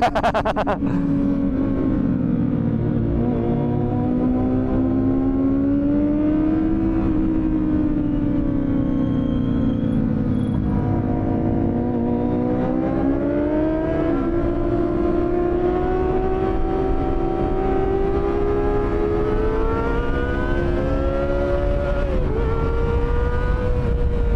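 Kawasaki Ninja ZX25R motorcycle ridden on a wet road, its high-pitched engine whining steadily and rising and falling with small throttle changes and engine braking, with wind rush and a rider's voice faintly underneath.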